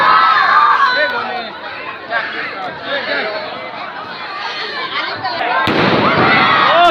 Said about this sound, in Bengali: আবারও চমৎকার আমরা দেখতে পাচ্ছি আতশবাজি